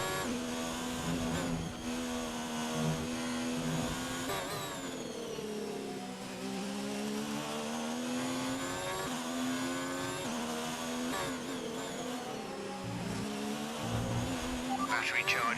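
Ferrari Formula 1 car engine in the F1 2019 racing game at the Hungarian Grand Prix, a continuous high-pitched whine that climbs and drops with each gear shift and corner, loud and unbroken, with other cars' engines mixed in.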